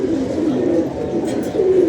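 Domestic pigeons coo continuously and close up, with low, rolling, overlapping calls filling the whole short moment.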